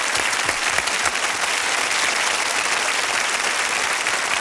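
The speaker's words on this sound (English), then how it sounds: "How about a round of applause for the world's fastest court reporter?" Steady, dense applause from a large audience, loud and continuous throughout with no pauses.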